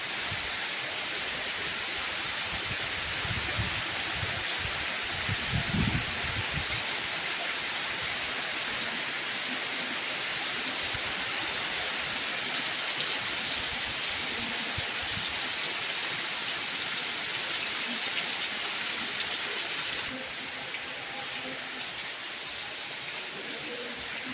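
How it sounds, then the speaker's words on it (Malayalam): Steady heavy rain hisses continuously, an even broadband wash with occasional low thumps and faint murmurs beneath it. "നല്ല മഴയാ സുഹൃത്തുക്കളെ നല്ല മഴയാ"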